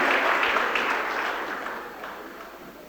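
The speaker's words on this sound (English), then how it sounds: "Please give them a massive round of applause." Audience at a national awards ceremony applauding, a dense burst of clapping that starts loud and gradually fades over a few seconds.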